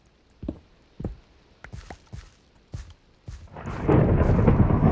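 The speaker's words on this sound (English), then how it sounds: "Ah, another thunderstorm." Thunderstorm in the Minecraft video game: several sharp thunder cracks and low rumbles strike one after another, then loud steady rain pours in and continues to the end.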